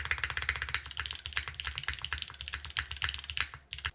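Rapid typing on a Neo65 Core Plus mechanical keyboard with the spacebar gaskets removed, a dense, steady stream of clacky keystrokes up close, with no talking.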